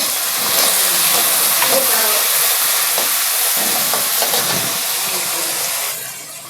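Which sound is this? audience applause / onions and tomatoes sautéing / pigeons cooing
onions and tomatoes sautéing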